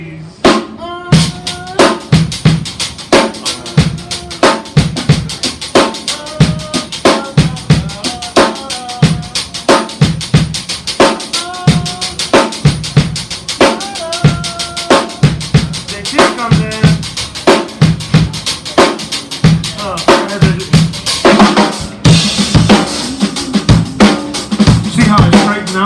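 A steady drum groove with a busy rhythmic backbeat and cymbals, played loud and close, continuing throughout with a slight lift near the end.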